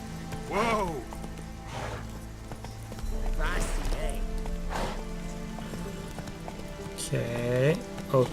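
Horse hooves clip-clop in The Witcher 3: Wild Hunt, scattered uneven footfalls mixed with game effects and tonal musical swells, while a rain-like hiss runs underneath at moderate volume.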